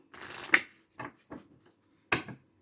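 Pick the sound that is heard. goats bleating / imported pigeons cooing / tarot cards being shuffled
tarot cards being shuffled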